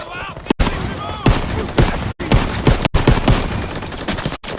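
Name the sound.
gunfire in the video game Call of Duty WWII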